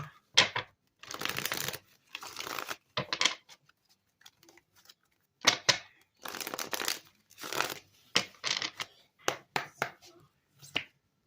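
Tarot cards shuffled and drawn by hand, a series of close, crisp riffling bursts and short slaps with brief pauses between them, no voices.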